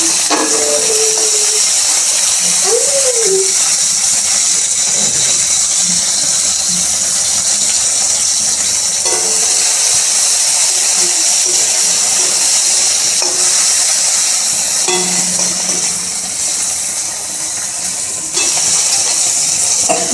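Chopped tomato hits hot oil in a pan already holding chopped onion and green chilli for homemade chowmein, giving a loud, steady, unbroken sizzle and hiss that lasts throughout.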